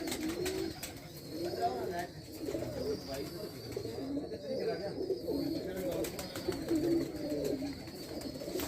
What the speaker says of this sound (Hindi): यहाँ पे कुछ जोड़ों वाले कबूतर है।